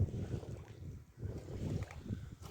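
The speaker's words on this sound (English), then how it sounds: "There we have a downwind sail here, going 15 knots." Wind rushes over a sailboat running downwind at about 15 knots under full sail, a steady low roar of air and water with gusty buffeting against the microphone and no voices.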